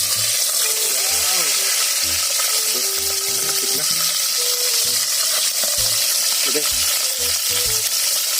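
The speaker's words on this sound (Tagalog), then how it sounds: "ready na po yung ating danggit na pipirituhin natin or i-fried" Dried rabbitfish (danggit) fries in hot oil with a steady, loud sizzle throughout, broken by stirring clinks and scrapes; one brief spoken word is heard.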